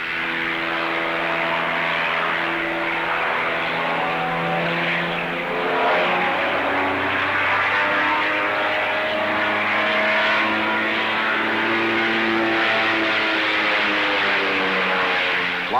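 The engine of a 1950s movie stunt plane drones steadily through a slow roll and inverted flight, a loud continuous propeller roar with a shifting, wavering pitch and no voices.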